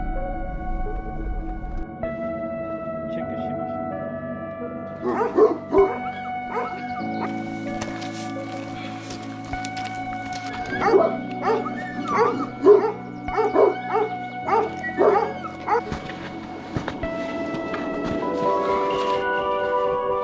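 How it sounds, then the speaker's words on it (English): Local dogs bark, yip and whimper during a ski tour toward a mountaintop monastery in Georgia, with scattered barks mostly in the middle of the passage over steady tonal music. "Local dogs following are a part of ski touring in Georgia."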